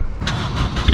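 A 2020 Honda Civic Si or an AP1 Honda S2000 fires up close by, a brief loud burst of engine noise that settles into a rough, throaty rumble.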